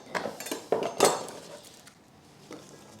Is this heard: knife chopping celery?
yes